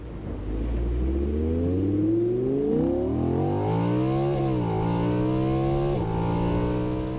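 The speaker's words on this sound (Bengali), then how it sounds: "আর গাড়িটা গতি বাড়িয়ে হুশ করে বেরিয়ে গেল।" A car pulls away and accelerates hard, its engine note climbing steadily through several rising revs over about seven seconds. It is loud and close, with no voices.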